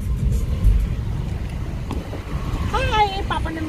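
A car being driven on the road gives a steady low engine and road rumble throughout, with a brief voice rising over it near the end.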